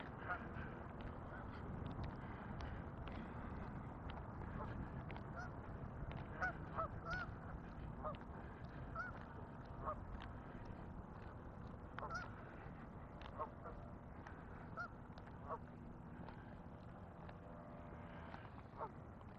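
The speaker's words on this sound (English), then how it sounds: "Lots of geese over here." Many geese honk on and off in the distance by a lake in Regina, a scattered, overlapping chorus of calls over soft outdoor background noise.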